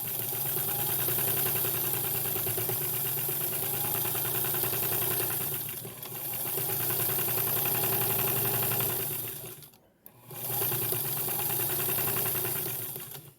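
A sewing machine runs a quarter-inch seam around the edge of a quilted scrappy tree skirt. It makes a steady, close mechanical hum that stops briefly twice, with no voices.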